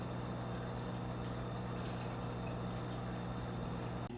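A hang-on-back aquarium filter with a sponge fitted over its intake runs steadily, giving a constant low motor hum with a soft watery wash, unchanging and close.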